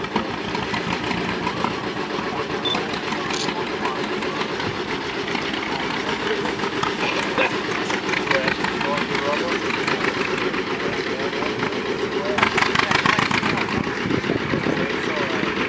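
Vintage tractor engines running at an outdoor show, with steady loud mechanical chugging and a constant engine drone, other machines mixed in, and people talking over it.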